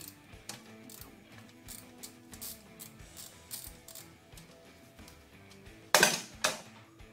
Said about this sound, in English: I'm going to undo that bolt there, which is a Torx bit.